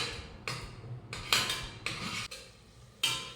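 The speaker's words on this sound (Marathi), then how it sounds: "आणि हे व्यवस्थित परतून घेऊयात तर हे वाटण साधारण पाच ते सहा मिनटं परतून घेऊयात" Ground masala paste sautéing in oil in a pressure cooker pot for matar masala, heard as about five scraping, clattering spoon strokes against the metal, close and moderately loud with short pauses between.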